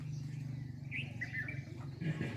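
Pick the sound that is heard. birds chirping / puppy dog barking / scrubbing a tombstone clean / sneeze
birds chirping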